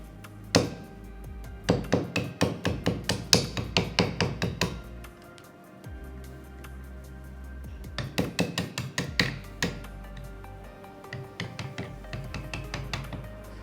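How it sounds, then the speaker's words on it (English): A nylon hammer tapping a steel punch to drive the front trigger pin out of a rifle lower receiver, sharp rapid metallic taps in three bursts of about a dozen strikes each, close and distinct. "We'll use our steel punch and our nylon hammer to tap out the front trigger pin from our lower receiver"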